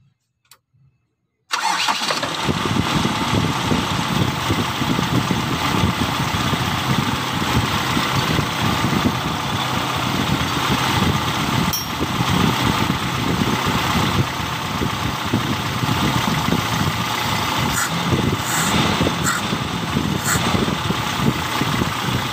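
A Toyota Kijang with a 5K engine starts after a brief pause and then idles steadily and loudly at close range during ignition timing adjustment, with no talk over it.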